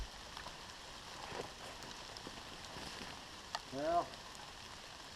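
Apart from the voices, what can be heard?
light rain shower falling outdoors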